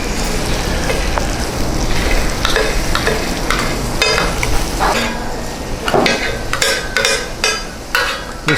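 Chicken pieces with a little shawarma mayonnaise sizzle and fry on a hot tawa griddle while a spatula scrapes and clatters against the metal in repeated sharp strokes, close and continuous.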